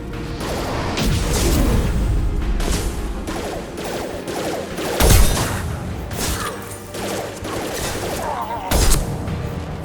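Sniper gunfire and battle effects from Mass Effect 2 Legendary Edition on PS5, fought on Korlus: dense, continuous combat noise with two sharp, loud shot bursts standing out near the middle and end.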